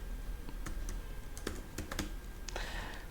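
A PowerShell command being typed on a computer keyboard: a quick run of light, irregular key clicks close by, alone against a faint background hum.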